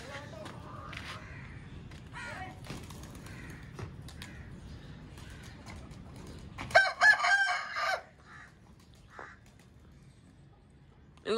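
Backyard desi hens clucking steadily close by, then a loud rooster crow bursting in near the end, with someone talking over the birds throughout.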